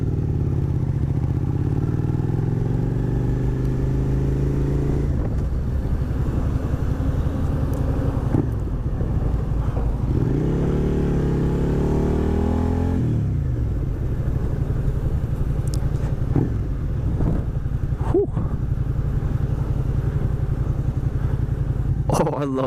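A Yamaha sport motorcycle being ridden and accelerating, its engine note rising and falling through gear changes, steady and close throughout.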